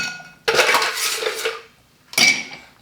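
Cocktail being stirred over chilled ice in a mixing glass for a Campden cocktail made with Kina Lillet: two bursts of bright clinking and rattling, a long one then a shorter one after a pause, close and clear with no talking.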